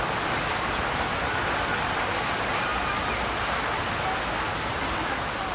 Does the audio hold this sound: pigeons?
no